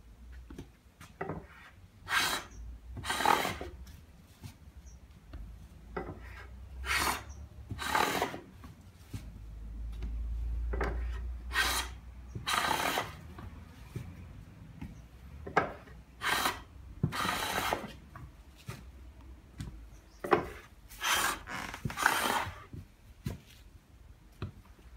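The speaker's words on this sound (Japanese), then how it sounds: "山桜の一枚板の表面を粗削れしています。 まず斜めに粗く削りします。" A hand plane rough-cuts the face of a wild cherry slab on the diagonal, giving a run of short, dry rasping strokes at an uneven pace, close and clear, with brief pauses between passes.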